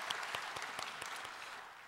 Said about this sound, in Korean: 우리가 하나님께 찬송의 박수를 올려드리면 좋겠습니다